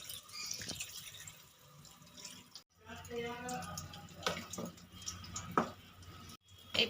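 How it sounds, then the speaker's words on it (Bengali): Water splashes and trickles into a pan of Bele fish jhal in a few bursts, followed by soft bubbling and stirring, with a voice talking between the pours. "পরিমাণ মতন জল দিয়ে দিলাম"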